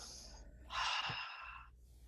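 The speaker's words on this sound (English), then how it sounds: "Inhale and exhale and let that go." A person draws in a slow breath and lets it out in a long, soft, airy exhale, heard alone and close in a quiet room.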